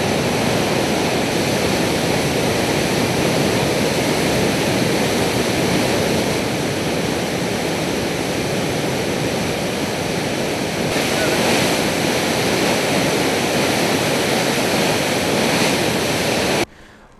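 Heavy monsoon rain and rushing floodwater in Idukki, a loud dense roar of pouring water that holds steady for the whole stretch and then stops abruptly.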